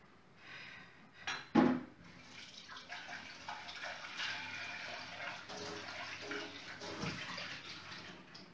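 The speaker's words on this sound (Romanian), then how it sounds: "Am să arunc apa" Water is poured out into a kitchen sink during chocolate-making, a soft splashing gush with a brief sharp clatter near the start, then a continuous quiet trickle and rush that fades in and out.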